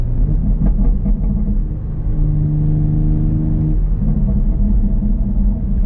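A 2020 BMW X3M rumbles along while driving, its exhaust giving low, close gurgles and burbles with a brief steady engine tone in the middle, loud and continuous throughout.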